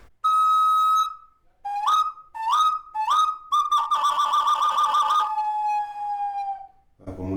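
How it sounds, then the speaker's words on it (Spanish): An ancestral Mexica clay whistle is blown alone: a long steady tone, then three short rising chirps, then a warbling trill that slides into a fading note, loud and close like a bird call. "Este silbato es mexica y es muy particular"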